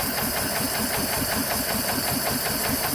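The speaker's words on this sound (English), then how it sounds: "So off the button it's idling much nicer." A small engine with freshly adjusted mixtures idles smoothly at low revs, with a steady rapid chugging pulse heard loud and close, no voices.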